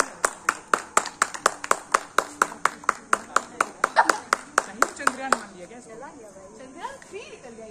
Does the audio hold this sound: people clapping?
yes